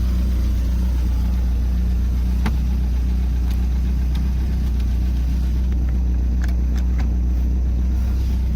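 A boat engine idles steadily while run on a water hose before warming up, a loud continuous low rumble with a few faint clicks and knocks over it, no talking.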